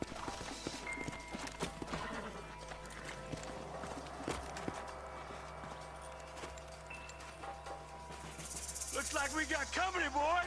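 A horse's hooves clop steadily across the ground in the Western video game Red Dead Redemption, a fairly quiet, even rhythm running under game ambience, with someone speaking and a burst of louder noise near the end.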